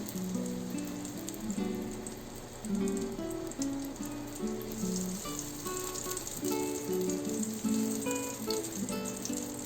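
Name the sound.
butter and oil sizzling in a pan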